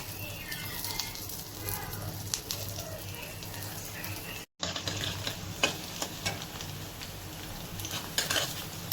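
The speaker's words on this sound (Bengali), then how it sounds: "ডিমটি ভুনা করার জন্য দেখুন আমি পেঁয়াজ ভেজে নিচ্ছি।" Onions frying in a pan for an egg curry give a continuous crackling sizzle with occasional utensil clicks, close up, with a brief break midway.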